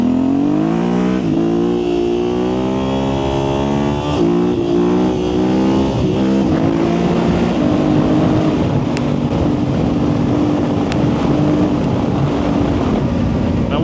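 A 2025 T7 motorcycle engine holds a loud, steady drone under throttle, its pitch rising then settling into a sustained roar with wind noise, close and continuous.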